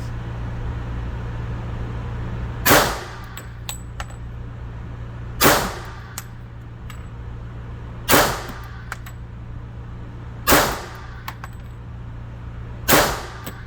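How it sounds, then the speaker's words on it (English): Five pistol shots from a 1911 TRP fired at a target 7 yards away. Sharp, ringing cracks come evenly about two and a half seconds apart over a steady low hum, with no talking. "5 shots."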